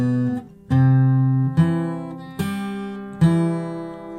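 A 12-string electric guitar picks the opening arpeggio riff of a song, ringing octave-doubled notes plucked one after another, close and clean with no voices.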